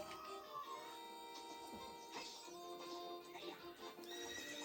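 Horses whinny and clip-clop at a gallop during a horse race in the video game The Legend of Zelda: Ocarina of Time, the neighs and hoofbeats close and loud over game music.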